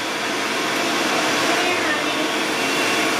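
A large vacuum cleaner runs steadily with a loud, constant whooshing whine that doesn't change over the few seconds.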